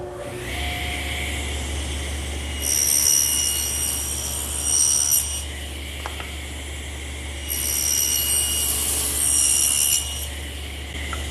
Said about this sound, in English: And I'll do that over here on the table saw